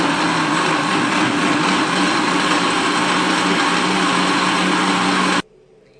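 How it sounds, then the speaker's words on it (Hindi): An electric blender pureeing cooked tomatoes in their own juices runs at a loud, steady whir for about five seconds, then cuts off abruptly into near silence. "इस तरह से ब्लेंडर में इसको डाल के ब्लेंड करूंगी।"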